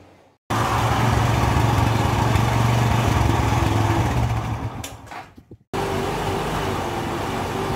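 A motorcycle left unused for five years starts after many kicks, its engine running loud and close with a rough, steady idle that sputters and briefly cuts out before catching again.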